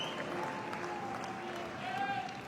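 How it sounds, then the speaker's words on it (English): Spectators in an athletics stadium applaud a newly medalled European champion at a para-athletics championship, a steady wash of clapping and crowd noise under a commentator's talk. "the crowd appreciate their newly medalled European champion"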